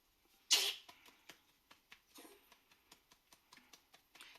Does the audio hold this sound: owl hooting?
no